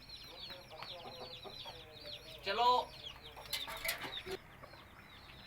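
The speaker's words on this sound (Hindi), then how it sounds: "ये बहुत ही नस्ली मुर्गा है" Aseel rooster of a purebred fighting line clucking and calling near the microphone, with repeated short bird notes over a yard background, a brief burst of wing flapping in the middle, and a voice briefly heard.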